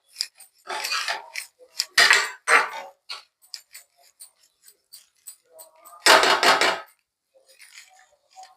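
A utensil scrapes and clinks against a pan while an onion-chilli flat bean curry is stirred, in intermittent close scraping bursts separated by quiet gaps.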